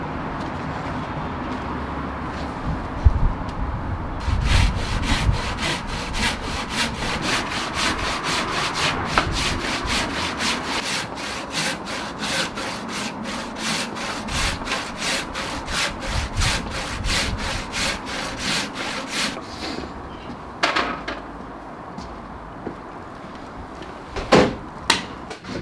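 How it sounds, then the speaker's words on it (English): A handsaw cuts through damp Christmas tree wood in a long run of quick, regular back-and-forth strokes, followed by a few scattered strokes and knocks near the end. "I am pretty impressed with how cleanly that's come out with the old handsaw"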